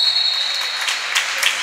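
Crowd in an indoor basketball arena, the Pala Fabiani, applauds during a Formia game, a broad wash of clapping with a faint high whistle-like tone early on and a few sharper bursts.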